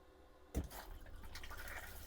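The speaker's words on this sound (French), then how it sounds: "ici c'est le bouton pour déclencher la chasse d'eau" A flush button is pressed on the toilet in a Pilote V540G camper van bathroom. After a quiet start, water bursts in suddenly and keeps rushing and gurgling steadily at low volume.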